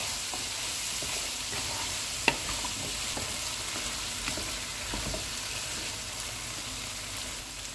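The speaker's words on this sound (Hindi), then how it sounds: "सब्ज़ मिर्चें डालेंगे, इमली और आलू बुखारा, सारे मसाले डालेंगे। इनको 2 मिनट तक भूनेंगे।" Green chilies, tamarind, dried plums and spices sautéing in a pot for vegetable biryani, a continuous even sizzle with occasional soft stirring taps and one sharp clink, no voices.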